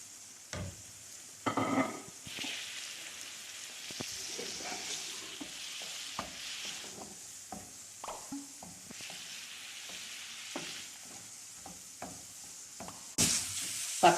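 Liver sizzles in sauce in a pan, a soft continuous frying hiss broken by frequent stirring scrapes and clicks of a utensil, close and fairly quiet.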